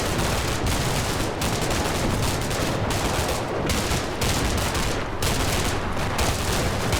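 Dense gunfire and grenade blasts in the Combat Mission: Cold War video game, a continuous heavy barrage of rapid shots and booms that stays loud and unbroken throughout.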